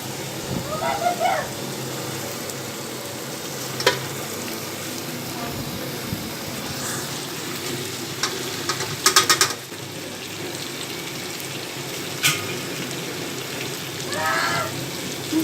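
Okra fries in a pan with minced meat, giving a constant rain-like sizzle with occasional sharper pops and clicks over several seconds.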